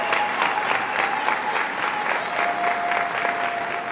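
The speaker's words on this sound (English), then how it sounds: "the Pitt State faithful here on their feet and clapping" A volleyball home crowd stands and claps through match point, steady rhythmic applause filling the gym at a strong, even level throughout.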